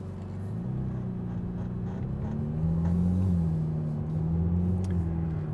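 McLaren Artura engine idling and running after start-up, a low, steady rumbling hum that swells slightly louder midway, heard close from inside the cabin.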